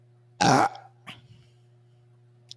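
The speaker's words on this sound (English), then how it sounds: "Rate my burp." Person burping, one short, loud, raspy burst up close, followed by a faint throaty afterbit and a brief click, over a steady low hum.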